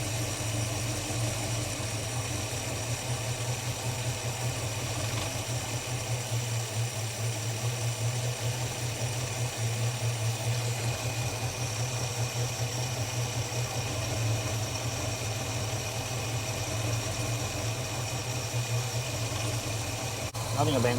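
Holden HK car engine idling steadily after the idle has been raised, a constant low rumble with a throbbing hum held evenly throughout, fairly close and alone.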